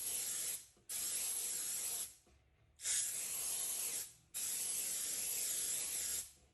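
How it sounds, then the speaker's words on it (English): Three separate long bursts of activator spray for CA glue, hissing loudly and evenly from a spray can with brief pauses between them, used in CNC woodworking prep. "So we're going to take the activator spray,"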